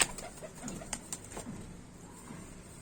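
A yellow-eyed Kallu pigeon in Bareilly coos faintly in short, soft bursts, mixed with light rustling and scattered clicks nearby.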